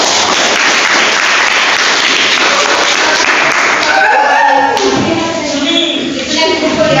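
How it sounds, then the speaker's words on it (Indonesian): An audience of teachers in a classroom session claps for a student group, a dense burst of hands that tapers off after a few seconds as voices and room chatter take over. "Tepuk tangan dulu untuk kelompok."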